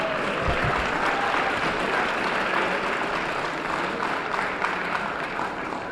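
An audience at the 2008 Harlem debate on Barack Obama's election bursts into sustained, dense applause, a steady wash of many hands clapping that holds at an even level throughout.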